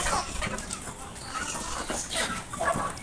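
Chickens cluck and chatter in a coop at feeding time, a busy cluster of fowl sounds at moderate distance with some wing flutters.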